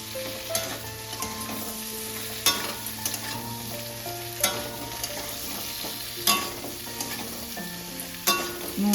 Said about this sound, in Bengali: মিনিট 2-3 এইভাবে একটু নাড়বো।